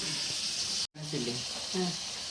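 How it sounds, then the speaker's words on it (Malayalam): Lemon pickle liquid in a pan hisses and sizzles as it heats toward a boil, a steady bubbling frying noise briefly cut by silence, with a voice speaking faintly over it. "അപ്പം നമുക്കൊന്ന് തിളച്ച് വരട്ടെ"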